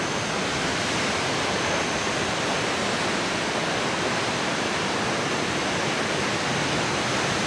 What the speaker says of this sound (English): you can hear the surf crashing if you listen carefully